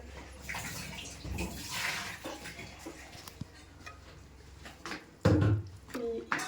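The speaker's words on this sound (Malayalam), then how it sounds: "മിക്സി കഴുകിയിട്ടുള്ള കുറച്ച് വെള്ളത്തിൽ കഴുകിയിട്ടുണ്ടെങ്കിൽ അരപ്പ് മുഴുവൻ നമുക്കിതിലേക്ക് ഒഴിക്കാൻ പറ്റും." Water used to rinse a mixer-grinder jar is poured into jackfruit curry in a pressure cooker, giving a short splashing gush with clinks of the jar, while a person talks in the background.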